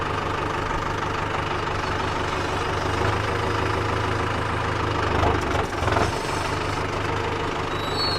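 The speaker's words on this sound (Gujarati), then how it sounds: "ફોરવર્ડ કરીશ એટલે હવે આપણું ટ્રેક્ટર હાવ સીધું જાશે" A tractor engine idles and runs steadily as the machine moves forward on a farm, a low, even rumble with a brief louder disturbance near the end and no talk.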